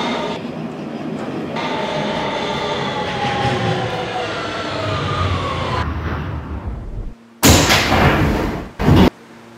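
Subway train running in Roblox, a Kawasaki R160B on the Manhattan-bound Q local near Neck Road: steady loud rolling rumble with whining motor tones, a brief drop, then two short bursts of harsh noise near the end.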